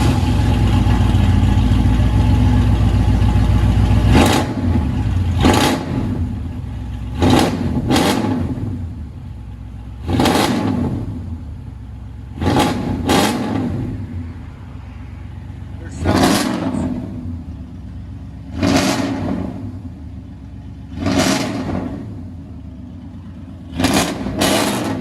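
A 1998 Chevy K1500 Silverado with true dual exhaust, long tube headers and straight pipes, cold-started then revved repeatedly: a deep idle broken by about ten sharp, loud throttle blips with rumbling decay between them.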